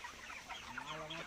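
Chickens on a farm clucking and calling softly at a distance, a faint, brief flurry of fowl sounds with no talking.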